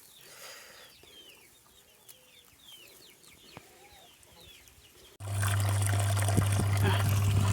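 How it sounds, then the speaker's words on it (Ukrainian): Soft clucking of a hen and faint chirping of her chicks at a watering spot in a quiet outdoor setting, then a loud steady rush of noise takes over for the last couple of seconds. "Курочка привела своїх курчат на водопой."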